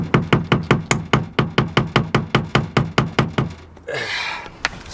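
Seized stud nut on a Renault Megane RS 250 knocked with a flathead, a rapid even run of about twenty sharp metallic taps, close, ending in a brief scrape and one last tap.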